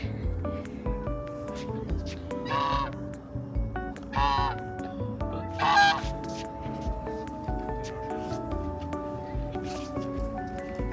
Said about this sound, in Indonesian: Nih si bebek.